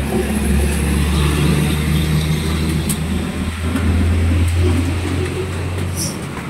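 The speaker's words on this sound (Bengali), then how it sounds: "এই পাশে আরেকটা ট্রাক আসতেছে।" A truck passes on a rain-wet road, its loud, deep engine rumble droning steadily nearby with a slight rise and fall as it goes by.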